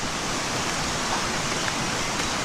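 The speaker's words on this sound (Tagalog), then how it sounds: "Mayroong source ng tubig dyan." Water runs steadily from a nearby water source outdoors, a continuous broadband rushing wash with no breaks, moderately loud and unaccompanied by talk.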